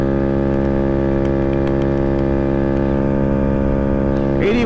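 GY6 scooter engine with Dr Pulley CVT sliders revving at top speed, a loud steady drone with strong harmonic tones held throughout, shifting briefly near the end.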